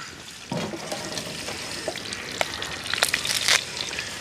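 Green chillies crackle and spit in hot oil, a sizzling bed with sharp pops growing busier toward the end.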